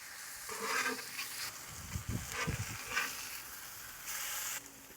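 Smash burger patties sizzling on a griddle just after being flipped, a faint steady frying hiss broken by scraping and clattering from a spatula, with no talking.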